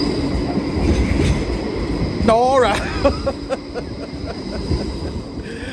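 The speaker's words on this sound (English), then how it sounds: "we've seen far too many trams, and here comes another one" A tram passes through the streets of Ghent, Belgium, at a Christmas market: rolling rumble with clicking wheels and a high metallic squeal, under nearby crowd chatter and a voice calling out.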